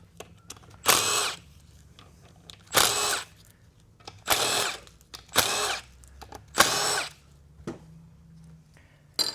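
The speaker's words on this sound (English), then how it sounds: "Now we're going to get our rear case support bolts out here." Cordless power tool running in five short bursts with pauses between, removing the 3/8 rear case support bolts from a vehicle transmission; close and loud, no talking.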